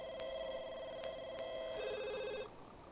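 A telephone rings in The Sims 2 game, an electronic trilling ring with sharp repeated pulses, steady and moderately loud before a brief change in pitch and a fade at the end.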